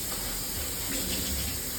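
Tap water runs steadily onto the plastic lint box of a clothes dryer as it is rinsed clean, a soft continuous hiss and splash at close range with no talking.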